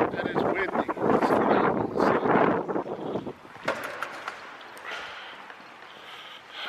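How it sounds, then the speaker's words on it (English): Gusty wind buffets the microphone in loud rumbling bursts that ease off partway through, leaving a softer rushing breeze. "And it's windy."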